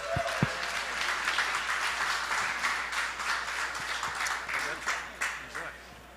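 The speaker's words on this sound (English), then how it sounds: "So let's give them all a round of applause." Audience applause at a Helium House event in New York City, a steady wash of many hands clapping that carries on for several seconds, with a few sharper individual claps and some faint voices mixed in.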